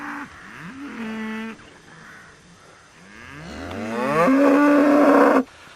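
Cows low in a rural field near Winchelsea and Icklesham, several long drawn-out moos overlapping one another, the nearest and loudest coming toward the end before stopping abruptly.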